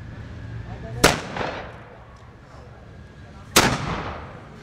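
A historical muzzle-loading cannon fires two sharp, booming blasts a few seconds apart, each trailing off into a rumbling echo over a low background hum.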